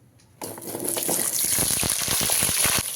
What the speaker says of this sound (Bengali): তেলটা ভালোভাবে গরম হয়ে গেছে দিয়ে দিচ্ছি কেটে রাখা আলুগুলো